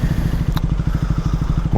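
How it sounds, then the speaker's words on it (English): A motorbike engine idles at a McDonald's drive-thru, a close, steady low chugging with an even rapid pulse throughout the short stretch. "I thought I was going to have to switch my engine off for that"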